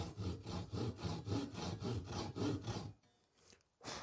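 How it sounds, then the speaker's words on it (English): A hand saw cuts a wooden guitar neck blank in steady back-and-forth strokes, about eleven rasping passes close up, then a brief pause before another stroke begins; no talk. "start with the crosscut side, but then go to the rip side as soon as your saw is tracking well"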